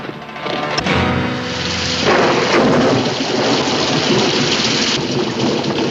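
Heavy rain pouring down with thunder booming and rolling through it, loud and close, a continuous roar, with no voices.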